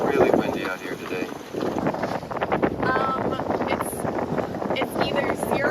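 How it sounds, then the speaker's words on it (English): Strong wind of around 20 to 30 knots buffets a sailboat out from Houghton toward the Keweenaw, loud gusty roar and microphone rumble throughout, with water wash and a voice talking over it. "Really windy out here today."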